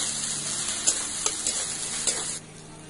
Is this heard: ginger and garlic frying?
yes